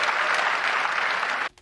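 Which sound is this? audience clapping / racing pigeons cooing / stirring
audience clapping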